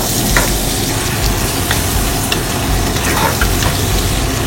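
Onions frying in oil, a dense, steady sizzle and crackle with occasional stirring scrapes, close and continuous with no talking.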